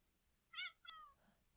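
A cat meows twice in quick succession, clear and close, with quiet background around it.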